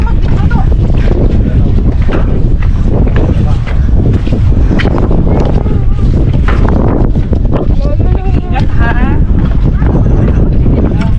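Strong wind buffets a hanging bridge in Al Hasa, Hofuf, a loud rushing roar against the microphone throughout, with people talking over the gusts.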